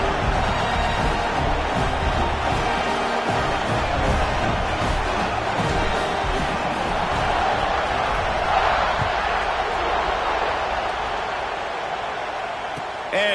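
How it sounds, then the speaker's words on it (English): A dense, steady roar from a football stadium crowd at an Alabama versus Georgia game, buzzing after a score ties it in the fourth quarter. It holds loud and unbroken throughout, with no clear voices standing out. "this crowd is buzzing after that last score"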